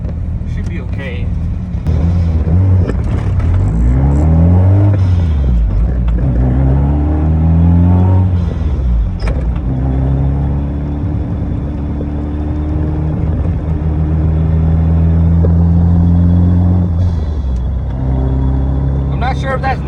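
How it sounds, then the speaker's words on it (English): A car engine runs steadily from inside the cabin on a first drive after a fuel leak repair, its droning hum rising and falling as the revs shift unevenly, loud and continuous throughout. "So far the car's driving good."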